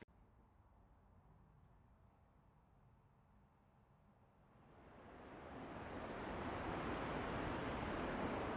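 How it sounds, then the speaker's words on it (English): Wind on a stormy, rainy day at an off-grid site, starting as a faint low rumble, then building halfway through into a loud, steady rushing gust that persists to the end. "It's windy, it's stormy, it's raining"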